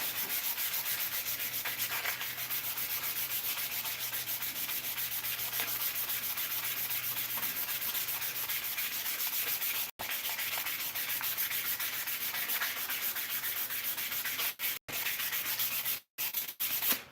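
A handle being sanded by hand: a steady, close, continuous scratchy rubbing with no pauses except a few brief gaps near the end, heard on its own without speech.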